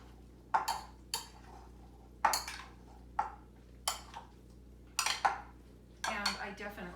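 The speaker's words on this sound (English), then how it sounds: "And give it a stir." Olive oil and chopped tomatoes being stirred in a bowl for bruschetta, giving a series of about eight separate clinks and scrapes of a utensil against the bowl, close and clear, spaced roughly every second.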